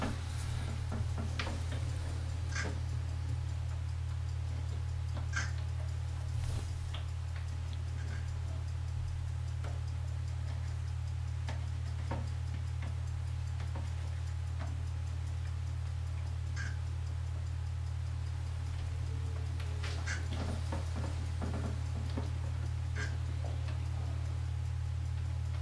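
A clock ticks steadily while black-and-white film develops in a daylight-loading tank for 35 mm film. The regular ticks sit over a constant low hum, and no one speaks.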